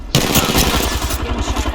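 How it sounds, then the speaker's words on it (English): Rapid automatic gunfire in Apex Legends Season 10, a dense, loud clattering burst of shots fired in quick succession that runs without a break for nearly two seconds. "Getting shot at."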